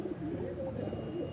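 Pigeons cooing at a pigeon loft in West Bengal, a soft, low, continuous burbling coo over the short moment, faint and close, with a voice murmuring in the background.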